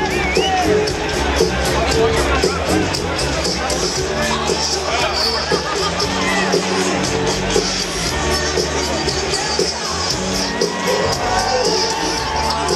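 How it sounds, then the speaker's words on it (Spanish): A packed bullring stadium crowd in Tijuana at a Michael Jackson event cheers and shouts continuously, a loud, dense roar of whoops and chatter that holds steady throughout with voices mixed in. "¡Enorme el aplauso!"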